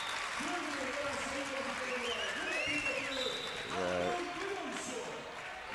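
Spectators at a Fram vs. FH handball match make a steady crowd roar with scattered clapping, heard beneath a commentator speaking throughout.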